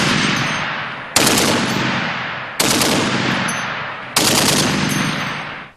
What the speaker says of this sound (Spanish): Actualmente es la ametralladora más temida en el campo de batalla.